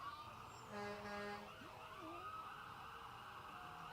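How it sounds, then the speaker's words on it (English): An ambulance siren wails through a Christmas parade at a distance, its rising and falling tone steady over a constant crowd and street murmur, moderately faint, without clear speech. "The ambulance is coming down here."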